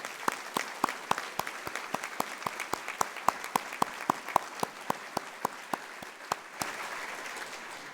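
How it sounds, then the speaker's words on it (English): Scattered hands clap at an archdiocesan dinner, the crisp individual claps distinct and steady for several seconds before trailing into a softer wash. "Let's applaud the students and the young people here."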